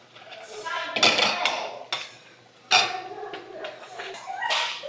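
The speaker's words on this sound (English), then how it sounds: "give it a good mix" A spoon stirs curry and paprika into jollof rice in a pot, giving irregular clanks and scrapes at close range, while a dog yips and whimpers nearby.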